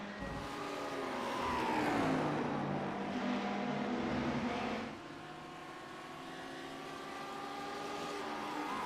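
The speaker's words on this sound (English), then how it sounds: "nice looking pack of cars coming down the front," A pack of race cars in the iRacing video game passes down the start-finish straight at Snetterton: several engines whine at different pitches, swelling loud and then dropping as they go by, leaving a lower engine drone.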